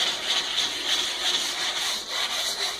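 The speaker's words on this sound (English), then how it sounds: "bronze bristle brush and kind of rub the base" A stiff bronze-bristle brush rubs steadily along the base of a downhill ski, giving a continuous bright, raspy scrubbing sound with a fairly even rhythm, close and alone.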